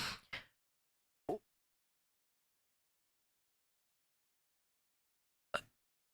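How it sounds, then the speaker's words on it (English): A man hiccups a few times: two quick bursts close together, another a second later, then a lone one after a long silence. Each is short and close, with no talking. "Jesus, hiccup."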